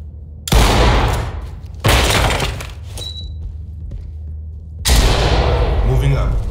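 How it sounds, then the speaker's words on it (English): In the Ready or Not tactical shooter, a shotgun blasts open a locked door, with three loud booming shots spaced a couple of seconds apart, each followed by a ringing decay. "Use a shotgun on the door."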